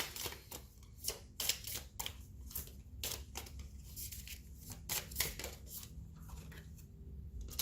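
Tarot cards are shuffled by hand in quiet, faint bursts of riffling and slapping, a rapid irregular rhythm of close crisp flicks with no talking.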